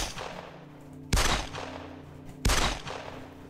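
Gunshots in the game 13 Days in Hell: two sharp, loud shots about a second apart over a steady droning game background.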